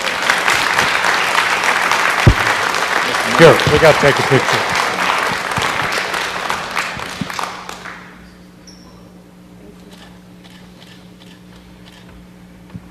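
Applause at a city council meeting, loud clapping for about eight seconds with someone speaking over it, then it stops abruptly, leaving a quiet room with faint ticks and a low hum.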